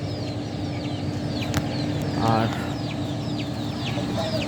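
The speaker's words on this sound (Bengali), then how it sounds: "এই যে লাল মুরগিটা মুরগির সাথে রাখা" Native hens kept in a cage clucking steadily at close range over a constant background hum, with a brief louder squawk midway and a person speaking briefly.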